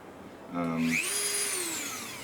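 A small rotary tool with a sanding tube whirs up to a high-pitched whine and holds steady, close and fairly loud, with the pitch gradually sagging as it sands a Ruger American Ranch rifle.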